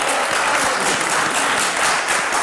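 Audience applause, steady dense clapping from a crowd, loud and continuous throughout the short stretch, with no talking over it.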